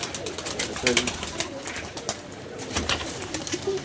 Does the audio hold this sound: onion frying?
no